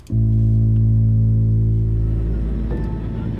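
A deep, sustained synthesizer drone imitating an airplane engine opens a piece of music, a loud steady low hum with layered harmonic tones that shifts slightly near the end.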